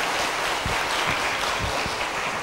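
An audience applauds during a Buddhist dharma lecture, a steady dense wash of clapping that carries on evenly for the whole stretch with no voices over it.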